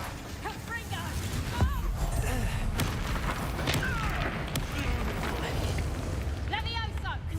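Repeated Confringo fire-spell blasts in Hogwarts Legacy, booming bursts over dense combat noise, with voices speaking throughout.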